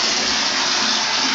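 Water runs into a bathtub whose drain stopper is broken, making a steady, close, broadband rush with no talking.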